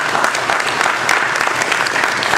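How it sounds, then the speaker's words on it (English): Sustained audience applause fills the room at a Lisbon urban session on unemployment organizing, steady and dense clapping throughout with no talking. "So I'm going to have to ask you to once again please applaud them"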